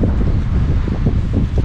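Strong outdoor wind buffets a microphone during a motorcycle trip, making a loud, continuous low rumble that rises and falls in gusts throughout, with no talk.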